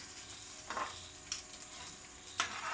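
Egg and ham fry in plenty of oil, a continuous bright sizzle close by, with a few sharp spatula scrapes and stirs breaking through.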